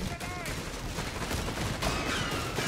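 Rifle gunfire in Company of Heroes 3, a real-time strategy battle, crackling as a dense, continuous volley under an excited caster's commentary.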